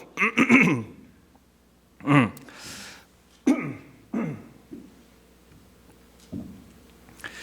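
During a sermon, several harsh coughs and throat clearings come in bursts, close and fairly loud, separated by short pauses with quieter breaths between them.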